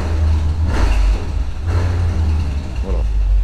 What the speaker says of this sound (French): petit coup de gaz